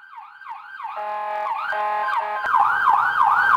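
An ambulance siren wails close and loud in a repeating rising-and-falling electronic sweep, growing stronger and harsher toward the end with no voices.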